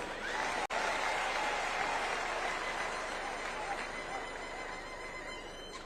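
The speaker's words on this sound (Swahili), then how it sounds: "Tumpigie makofi" Applause from a crowd at a Kenyan political rally greets the ODM party leader, a sustained dense clapping roar that holds steady and slowly thins toward the end.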